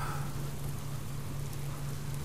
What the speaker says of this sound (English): Is it just the sound of the rain?